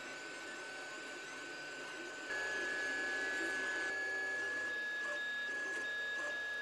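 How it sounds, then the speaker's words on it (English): Anycubic i3 Mega 3D printer resuming a print job: a quiet motor whir steps up louder partway through into a steady stepper whine with small tonal shifts, no talking. "the printer continues the job"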